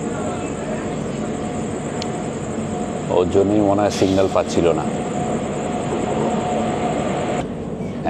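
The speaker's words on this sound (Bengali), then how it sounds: "একটা মালগাড়ি ছিল, ওই যে ঢুকছে" A freight train rumbles into a station at night, heard from aboard the Humsafar Express with a steady low roar and a passing burst of clanking wagons, while someone talks over it.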